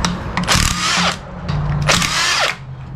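Power tool removing transmission pan bolts during a 42RE teardown, with two loud whirring bursts, each running about half a second and trailing off as the bolt spins out.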